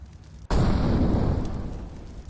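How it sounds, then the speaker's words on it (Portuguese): A grenade in the CS:GO video game goes off as one sudden loud boom after a brief quiet moment, followed by a long, deep, rumbling decay that fades slowly. "Throwing a grenade."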